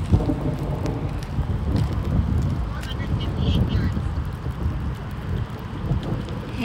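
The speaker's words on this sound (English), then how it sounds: "It's raining some." Steady rain with low rumbles of thunder at a golf course, a continuous wash of wet noise with wind buffeting the microphone and faint voices underneath.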